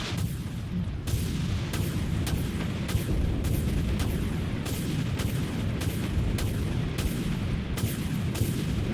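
Rapid, evenly spaced heavy booms of weapon fire and impacts in the naval combat game Dreadnought, about a dozen loud thuds over a constant low rumbling roar, with no talk.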